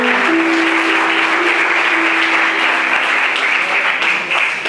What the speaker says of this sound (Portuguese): Pode se sentar aplaudindo Jesus bem forte.